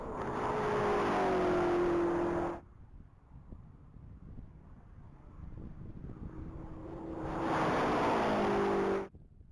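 A gray 2022 BMW X6M SUV runs the mile at high speed, its engine roar swelling loud, dropping away, then surging again near the end in two strong bursts with a quieter gap between.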